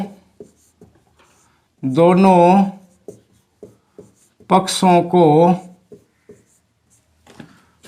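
Math working for a class 8 lesson is written out, giving soft scratching and tapping strokes in the gaps while someone speaks loudly over much of it.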